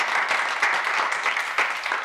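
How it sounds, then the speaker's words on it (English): Audience clapping at a talk or conference presentation, a short burst of steady, moderately loud applause from a room of people. "Round of applause"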